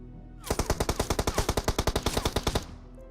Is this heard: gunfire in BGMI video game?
yes